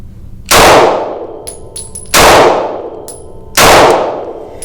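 Three loud, sharp pistol shots fired at a target at 10 yards, each a crisp crack with a short ringing tail, spaced about a second and a half apart with faint metallic pings between.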